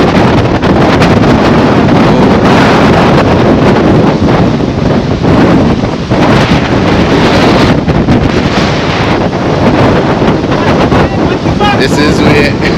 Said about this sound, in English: You can see the weather intensifying now. See the big waves coming in.